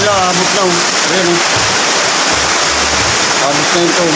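Rainwater gushes and overflows from a clogged drain beside a doorway, a loud continuous rushing roar with faint voices and other sounds under it.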